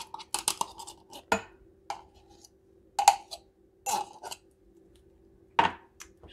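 A butter knife scrapes and clicks against a tomato paste can, giving sharp metallic taps and short scrapes at irregular intervals with quiet gaps between them.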